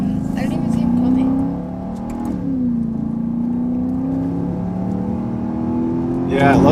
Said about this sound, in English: Yeah, I love the way V8 sound.